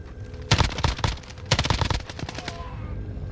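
Rapid video-game gunfire as a player shoots an enemy: two loud bursts of close, cracking automatic shots, each a quick volley of sharp reports, followed by a lighter trailing patter and background game ambience.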